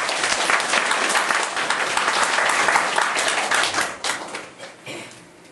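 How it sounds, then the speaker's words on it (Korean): An audience at a church sermon applauds in a dense, loud burst of clapping that holds steady, then thins out and fades near the end. "참부모님께 감사 박수 보내시죠."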